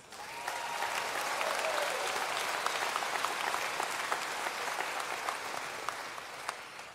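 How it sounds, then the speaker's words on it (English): A high school graduation audience at Forest Lake Area High School in 2021 breaks into steady, dense applause that carries on evenly throughout, heard at a moderate distance with no talking. "I think that deserves a round of applause"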